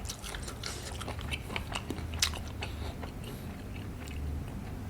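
Crunchy bone cartilage with fat is bitten and chewed close up in a steady series of crisp crunches and wet chewing, quiet and with no talking.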